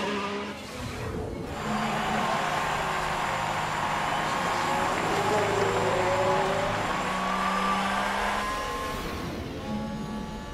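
In the F1 Manager 2022 racing game, Formula One cars, with an Alfa Romeo leading, cruise a victory lap; a sustained engine drone carries rising and falling whines as cars pass, with faint tyre noise.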